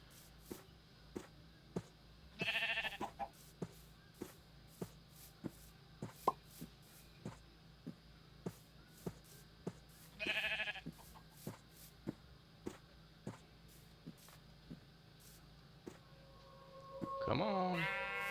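Sheep on a farm bleat loudly in three separate bursts spread across the stretch, with regular sharp knocking or tapping sounds ticking steadily between them and a person talking at times.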